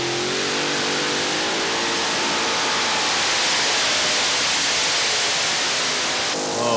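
A multi-engine unlimited pulling tractor with five engines, three in line and two on the side, roars at a 1991 tractor pull. The sound is a loud, sustained, rising engine roar close by, with no voices over it.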